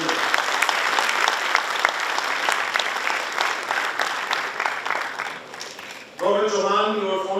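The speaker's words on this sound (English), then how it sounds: "Another huge applause for our strategic partner." A university audience applauds a strategic partner with steady, full clapping and a few sharp individual claps standing out. The applause fades, and then a voice begins speaking over the last of it.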